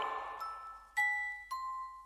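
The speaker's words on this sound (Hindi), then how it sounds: "अपने कंधे से उतारकर जंजीर में बंधी घंटी जोर से जमीन पर मारी" A bell hanging on a chain is struck hard against the ground, giving two bright metallic rings that follow a softer jingle and decay slowly in a quiet space.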